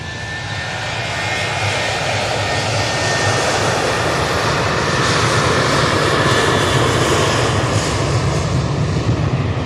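A jet airliner takes off from Manchester Airport bound for Funchal, its engines a loud, steady roar rising slightly and holding throughout, with a thin high whine over the broadband rumble.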